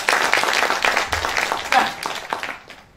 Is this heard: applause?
yes